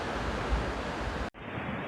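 Steady, loud rushing water from a waterfall with wind buffeting a clip-on smartphone microphone, a continuous broadband roar that cuts out for a split second and then resumes.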